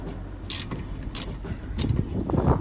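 A socket wrench works a 16mm fixing on a Renault Clio 3: three short, crisp ratcheting bursts at a steady pace over a quiet workshop background.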